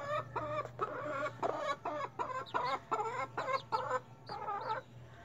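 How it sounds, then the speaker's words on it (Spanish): A four-week-old chick clucks in a rapid series of short, chattering calls, close and fairly quiet over a low steady hum. "Miren, allá se mira el pollito."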